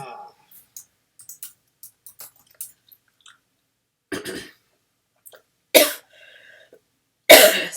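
A person recovering from a cold coughs a few times in short bursts, loud and close, between faint clicks and quiet moments with no speech.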